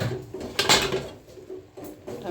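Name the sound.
pot lid being taken off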